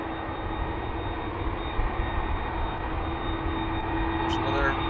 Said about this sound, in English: we have this plane from Turkish just behind